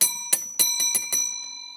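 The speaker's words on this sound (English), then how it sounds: "he has a couple old telephone bells" An old telephone bell strikes in a quick series of about six bright metallic rings, close and loud, each leaving a sustained ringing tone that fades at the end.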